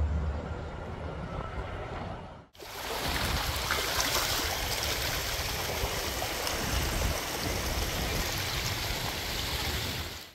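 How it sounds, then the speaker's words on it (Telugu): A small waterfall at Little Niagara Falls rushes and splashes in a steady broadband roar after a brief quieter opening. "ఇక్కడ స్మాల్ నైగర్ ఫాల్స్ అని ఒకటి ఉంటుందన్నమాట చిన్న వాటర్ ఫాల్ లాగా సో అక్కడికి వచ్చాము"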